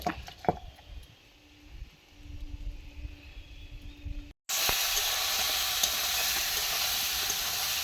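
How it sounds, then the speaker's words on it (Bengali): Potatoes frying with spices in a pan, starting with quieter stirring and scraping, then breaking into a loud, steady sizzle and hiss that continues to the end, with no speech. "মশলা একেবারে দিয়ে আলুটা কষে নিচ্ছে"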